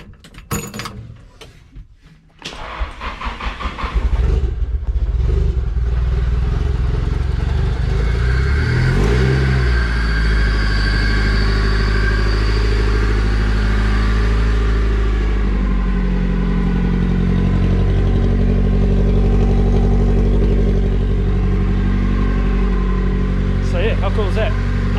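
A car with an SR20 engine idles loudly and steadily after a few clunks and brief revs, the running engine filling the clip close by with a voice briefly heard.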